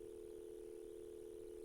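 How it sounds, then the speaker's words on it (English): North American telephone dial tone from the Police Quest 1 video game: a steady, unbroken electronic hum held at even loudness throughout, with no voices. "This is supposed to be a North American dial tone, I guess."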